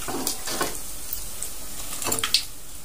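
Tempeh fries in hot oil for a nasi pecel meal from Madiun, a soft steady sizzle with a few brief scraping stirs and clinks close by, no one talking.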